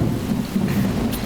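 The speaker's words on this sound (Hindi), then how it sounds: "बहुत बारिश हो रही है" Heavy rain with thunder in an outdoor film scene, a dense continuous roar of downpour with a deep rumbling undertone, loud and steady throughout with no voices.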